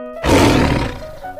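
A tiger lets out a single loud, raspy roar lasting about a second, rising sharply and then fading out.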